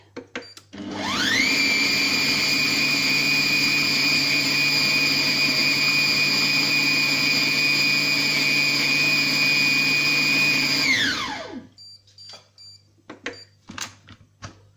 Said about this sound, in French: Ajouter le thon naturel, lancer le programme haché encore une fois.